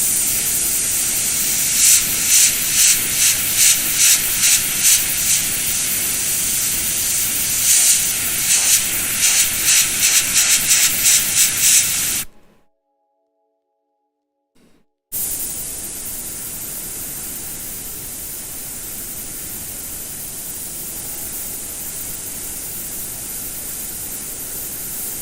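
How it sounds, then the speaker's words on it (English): A clogged airbrush sprays in a loud, steady hiss with rapid sputtering pulses early on, cuts out to silence for a few seconds, then resumes as an even hiss. "This airbrush has got a mighty clog in it"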